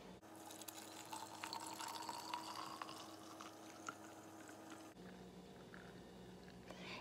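DIY foaming hand soap mixture being poured into a dispenser bottle, a soft, steady trickle of liquid with light drips, faint and close, with no talking.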